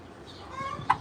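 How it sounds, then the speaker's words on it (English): A hen and her newly hatched chicks cluck and peep faintly on a farm, with a sharper chirp near the end. "Now, those are chickens."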